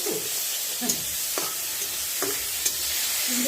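Onion sizzles in a pan with ginger-garlic paste, cinnamon, cloves and cardamom, a steady hiss punctuated by a few light stirring scrapes, close and moderately quiet with no speech.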